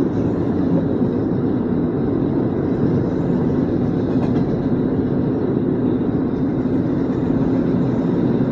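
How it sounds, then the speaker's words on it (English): A Union Pacific southbound manifest freight train rumbles past close by the 99 freeway in Madera, California, a loud continuous roar of wheels and cars that holds steady throughout. "We are about to pass by a Union Pacific freight train"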